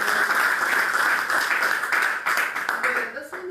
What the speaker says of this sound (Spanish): Así que propongo un aplauso más.